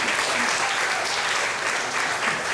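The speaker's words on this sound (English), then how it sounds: "Let's give all the speakers a lovely round of applause." Sustained, even audience applause for the speakers at a Ramayan satsang gathering in a Shiva mandir, a dense wash of many hands clapping throughout.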